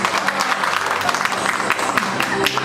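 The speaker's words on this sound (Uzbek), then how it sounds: "Nodira va Fazliddin juftligiga olqishlarimiz." Steady applause from an audience greeting the couple Nodira and Fazliddin, continuous crowd clapping throughout, with a host's voice speaking over it.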